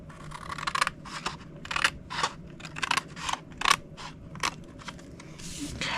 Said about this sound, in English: cut it to the first score line, and we're going to take these 3 pieces off